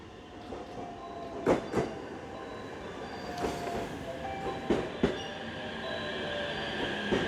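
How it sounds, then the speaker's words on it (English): A panda-themed train running along the Japanese coast, rumbling steadily with sharp wheel squeals and clanks recurring over several seconds, fairly close, with no voices. "Yes, it's the panda train, let's go!"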